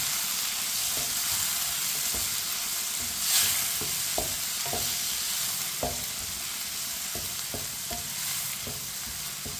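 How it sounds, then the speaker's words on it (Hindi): A spoon repeatedly scrapes and taps through chopped tomatoes and green chillies cooking in a pan, irregular clinks over a steady close sizzle, with no talking. "इसी तरह इसे चम्मच चलाते हुए पकाना है।"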